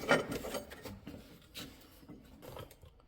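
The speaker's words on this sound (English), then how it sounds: "these are lock nuts, so you are going to be wrenching them the entire way out." Wrench ratcheting lock nuts off a Club Car golf cart motor mount, giving short irregular clicking and grinding bursts of metal work, close and without talk.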